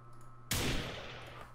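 A single M4A1 gunshot sound effect from a Unity-made Rust-style survival video game: one sharp, loud crack that tails off into a long fading echo, heard alone after quiet.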